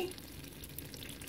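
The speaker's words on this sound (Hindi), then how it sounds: "ये देखें मसाला भून गया और ऑयल ऊपर आ गया इसका।" Masala for beef paya frying in oil with red chilli and salt, a soft continuous sizzle with faint stirring, quiet and close.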